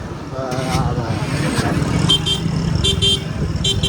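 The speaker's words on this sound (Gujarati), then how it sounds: "આપણે ટ્રાફિક થઈ ગયું બહુ ટ્રાફિક થઈ ગયું" Heavy road traffic near Khalipur rumbles close by as cars and motorcycles pass, with several short horn toots in the latter half, while people talk over the noise.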